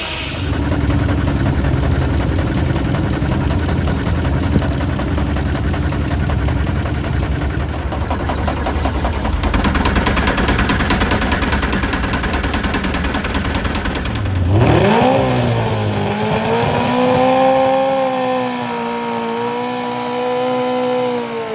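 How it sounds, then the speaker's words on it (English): An old tractor engine drives machinery at a steam show in Bangor, Pennsylvania: a loud, steady running drone that shifts partway through into a changing, revving engine tone before settling again. "a cheap tractor that propelled the whole machinery."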